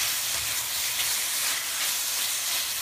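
Loud, steady high-pitched sizzling, like food stir-frying in a very hot wok, with no voices.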